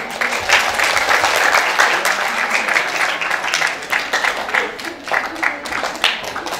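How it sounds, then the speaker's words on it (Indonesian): Students at a Ramadan pesantren gathering at a vocational high school break into loud, sustained applause, a dense crowd of hands clapping steadily throughout, with some faint voices underneath. "Tepuk tangan untuk kita semua."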